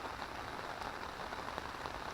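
Steady rain pattering on leaves and ground around a garden plot of plants and banana trees, an even, dense hiss of drops close by with no speech.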